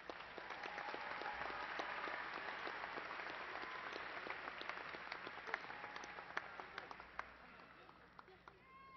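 Commencement audience at a university fall graduation applauds the graduates, a steady sustained round of clapping from a large hall with scattered sharper individual claps standing out.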